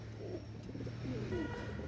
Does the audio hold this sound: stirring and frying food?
no